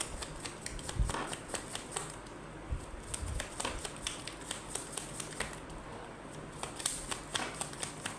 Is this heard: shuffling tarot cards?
yes